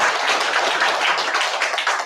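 A church congregation applauds in a short, steady burst of dense hand clapping, filling the room evenly with no speech over it.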